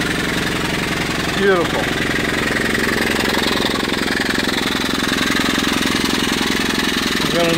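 A small steam engine spinning a dynamo at well over 750 RPM, fitted with an American Swift oiler and half-inch pipe, gives a steady, close mechanical churning and knocking throughout, with a brief spoken word near the start.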